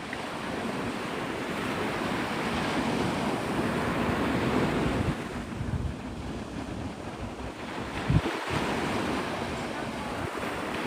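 Ocean waves wash continuously at Navarre Beach, Florida at sunrise, a loud steady surf roar with wind buffeting the microphone and a brief thump near the end.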